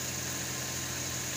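A car engine idles steadily with a low, even hum and a faint constant whine, the vehicle free of warning lights after wiring and fuel pump repairs; no other sounds intrude.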